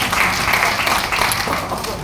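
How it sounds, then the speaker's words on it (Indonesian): Applause from a church worship congregation mixed with voices and cheering, a dense wash of clapping under chatter. "Tepuk tangan sekali,"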